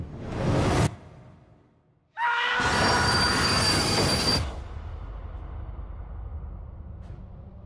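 A train rolls past on rails with loud, high-pitched wheel squeal, then settles into a steadier rumble as it continues.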